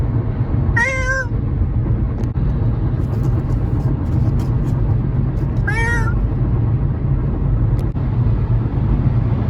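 Two separate cat meows, one near the start and one past the middle, over a steady low rumble of road traffic.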